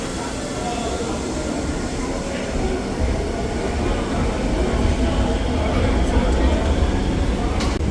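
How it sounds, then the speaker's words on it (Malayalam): An Osaka Metro train pulls out of an underground station, a broad low rumble that swells gradually over several seconds, with a faint high squeal near the end and station noise around it. "അവിടെ ഒരു ട്രെയിൻ പോയി കഴിഞ്ഞു."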